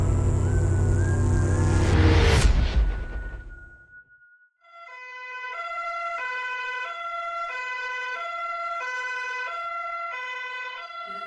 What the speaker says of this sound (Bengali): অ্যাম্বুলেন্স ডাকা হলো।